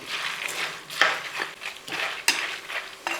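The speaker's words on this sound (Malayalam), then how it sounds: "ഇനി നമുക്ക് ഈ കടലപ്പരിപ്പൂടെ നമുക്ക് അങ്ങോട്ട് ഇട്ട് കൊടുക്കാം. നല്ല അവിടെ കൂട്ടിയൊന്ന് ഇളക്കി" A spoon stirs chana dal into a pan of homemade Kerala-style mixture snack, giving several distinct scraping, rattling strokes at an irregular rhythm, close by with no talk.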